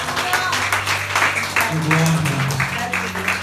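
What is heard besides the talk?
congregation applauding in church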